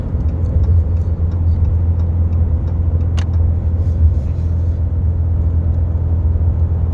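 A 2019 Ram 3500 pickup with a Cummins diesel rated at 1000 lb-ft of torque, cruising while towing 25,000 pounds gross, drones with a steady, loud low rumble throughout, without a break.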